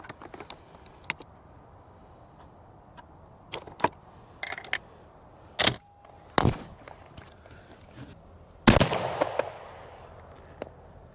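Shotgun shots fired with Winchester Bismuth shells through a Briley mid-range choke for pattern testing after barrel forcing cone work: several sharp, scattered bangs outdoors, the last one loudest with a lingering rolling tail.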